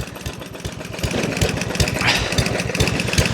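A 139cc lawn mower engine runs steadily while low on power steering fluid, with a close, loud, rapid sputtering beat that picks up slightly after the first second and stays rough throughout.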